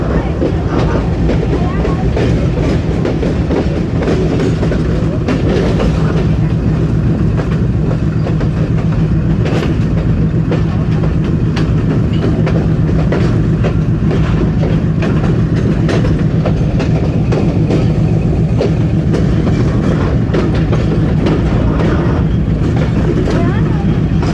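Passenger train running on rails near Lala Musa Junction in Pakistan, a loud, continuous rumble and rattle that fills the whole stretch without a break.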